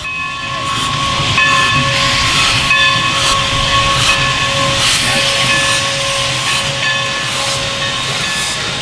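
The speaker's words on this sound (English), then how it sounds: "a few local children wait for the steam locomotive to arrive" An arriving steam locomotive hisses and rumbles steadily nearby, with a sustained whistle-like tone and continuous mechanical clatter, no voices.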